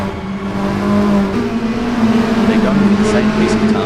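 Race cars in an Assetto Corsa sim racing league, Toyota S-FR, roar past with a steady engine drone that swells slightly as one car blitzes by another, with commentary spoken over it.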